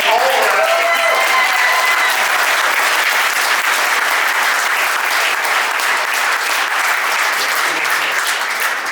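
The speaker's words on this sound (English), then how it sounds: "that deserves one more big round of applause" Loud, continuous clapping from a crowd at a Hall of Fame induction ceremony, steady and full throughout, with a few cheers near the start.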